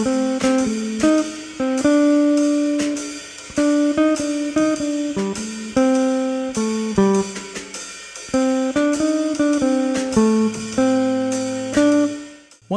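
Jazz phrases built on the Kansas City blues scale, played as a continuous run of distinct plucked or struck notes in a swinging rhythm, close and fairly loud with no talking.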